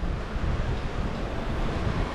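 Ocean surf at Tamandaré beach: a continuous broadband wash of breaking waves, loud and close with gusty wind noise, no talk.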